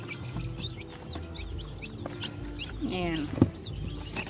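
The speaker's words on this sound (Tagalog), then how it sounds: "ito na yung mga sisiw natin. Lagyan na natin dito sa ilalim." Chicks peeping in a brooder after being placed inside, small high cheeps scattered over a steady background hum, with someone speaking briefly near the middle.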